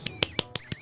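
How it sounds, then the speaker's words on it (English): Several sharp, faint hand claps land on a microphone in quick, uneven succession, about five crisp smacks in under a second with no talking. "Sorry about the mic. I was trying to clap."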